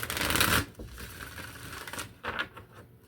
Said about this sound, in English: Start shuffling up the cards, shall we?